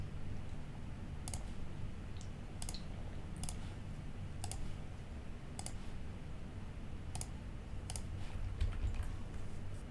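Mouse clicks sound while drawing a sketch in SolidWorks, a series of sharp, quiet, evenly spaced clicks roughly once a second over a low steady background hum.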